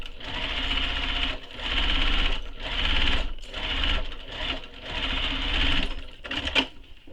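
A sewing machine bastes fabric tote bag panels together, running in about six steady whirring bursts separated by short pauses, close and clear with no talk.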